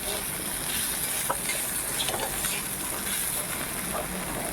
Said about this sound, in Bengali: এই যে এখানে উচ্ছেটা ভেজে নিচ্ছি